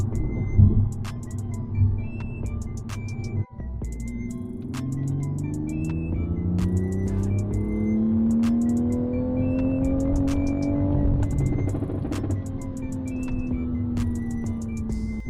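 A tuned Toyota GR Supra running E50 flex fuel pulls hard in fifth gear, its engine note rising steadily for over ten seconds from inside the cabin, with dash chimes and a brief drop near the start.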